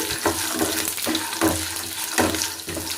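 Roasted peanuts and other ingredients being turned in a frying pan for a poha mixture, a close sizzling hiss broken by a regular series of scraping stirs about every half second.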